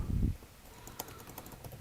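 Rapid, light clicks from typing on a computer keyboard, fairly faint and close, following a brief low thump at the start.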